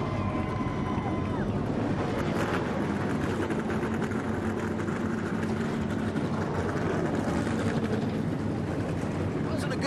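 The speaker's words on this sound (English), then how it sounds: "Drivers, start your engines!" Loud rumbling NASCAR stock car engines roar together in a dense, continuous drone with wind buffeting, as the field fires up and revs nearby at the start of the 2017 Service King 300.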